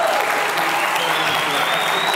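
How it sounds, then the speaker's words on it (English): Audience clapping hands at a talk on the future of happiness, a steady dense wash of applause throughout, fairly loud and close, with a faint voice underneath. "If you're happy and you know it, clap your hands."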